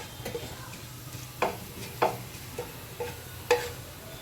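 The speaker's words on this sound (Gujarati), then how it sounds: "આમાં આપણે જીરું નાખશું. આપણું જીરું સાતળી લેવું." Cumin seeds crackle in hot oil in a pan for sabudana vada, a faint hiss broken by a handful of sharp, spaced pops and ticks, close and quiet with no talking.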